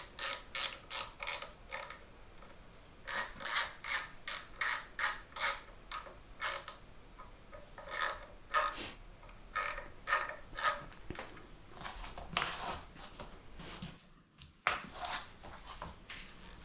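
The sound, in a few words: screwing a part into a Telecaster guitar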